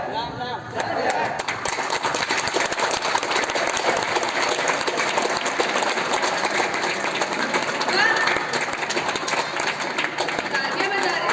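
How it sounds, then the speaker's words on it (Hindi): Sustained audience applause fills a theater competition hall, a dense, loud wash of clapping lasting throughout, with a voice speaking over it. "तालियां बजा रहे हैं"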